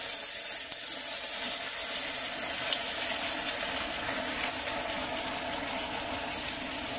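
Steady running water from a tap washing yellow cucumber in a sink, a continuous hiss and splash with a faint low hum underneath, no talking.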